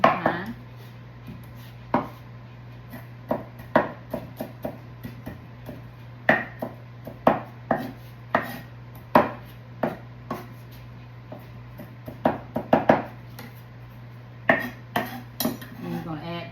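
Fresh cilantro chopped finely with a knife on a board, close crisp knocks arriving in irregular bursts and quick clusters, heard alone without talk.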